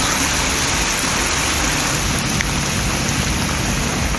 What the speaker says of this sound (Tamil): அரியலூர் மாவட்டத்தில் 2வது நாளாக கனமழை வெளுத்து வாங்கியது.